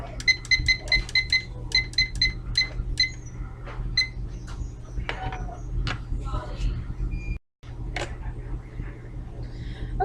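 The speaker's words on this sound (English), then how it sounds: "timer has gone off" Laboratory timer alarm going off with a rapid series of high electronic beeps in quick bursts, fairly clear at first and then fading into faint room noise with some scattered background sounds.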